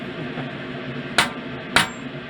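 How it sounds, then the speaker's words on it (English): A hammer strikes a pin punch twice while building a crossbow, two sharp metallic whacks about half a second apart over a low room hum. "pin punch and we're going to hit it right there"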